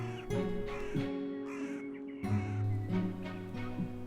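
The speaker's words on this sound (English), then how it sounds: "hooded crows are amazingly adept at surviving here" Hooded crows caw repeatedly on the coast of the Isle of Rùm, harsh rasping calls overlapping at close range against a steady low background hum.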